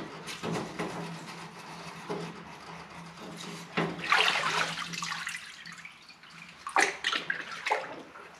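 A brush scrubs an engine part from a 1948 Harley-Davidson WL Flathead 45 in a parts washer, with splashing, trickling solvent and wet bristle strokes in uneven bursts, close up, alone.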